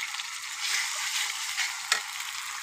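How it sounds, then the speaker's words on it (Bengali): Ginger and garlic paste fry in oil with browned chopped onions for a roast, a soft steady sizzle with a light stirring scrape, fairly faint and without talk. "আদা বাটা ও রসুন বাটা তেলের সাথে ভালো করে একটু নেড়ে নিতে হবে।"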